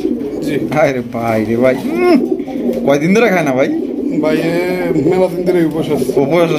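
A single male pigeon offered for sale coos in low, rolling calls, heard beneath a man's loud, close talking that runs through the whole stretch.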